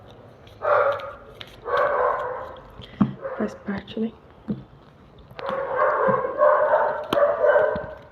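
A dog barks in short bursts again and again while a person keeps talking over it at close range.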